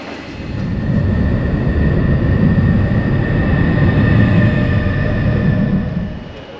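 A train leaving a platform near Lake Como rumbles steadily past at close range, a continuous low roar with a faint high whine, swelling in and fading slightly at the end.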